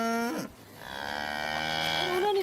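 Cows on a Mongolian family herd moo loudly nearby, one long drawn-out bellow following a shorter call, with another low moo rising at the end.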